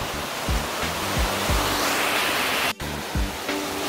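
Yukdam Waterfall, a cascade over 40 metres tall in Seoraksan's Towanggol valley, pours with a dense, continuous roar, broken by a few low bumps and one brief dropout.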